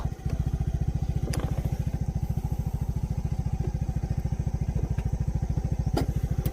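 A Yamaha Mio Gravis scooter ridden off-road, its small engine thrumming in a close, loud, rapid steady pulse with occasional clatters and knocks from the rough ground.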